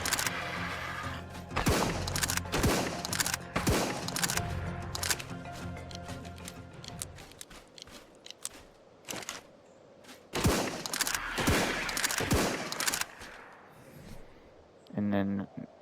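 A modded fast-firing gun in the ARK video game lets off repeated sharp shots in quick bursts, loud and close, with pauses between volleys and someone talking over parts of it.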